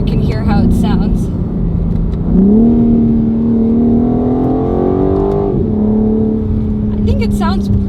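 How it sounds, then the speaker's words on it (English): Engine of a 2023 BMW M4 Competition, stock with about 444 horsepower, revving up on a downshift and then holding a steady droning note, loud and close inside the car, with faint crackles near the end. "Let me downshift so you can hear how it sounds."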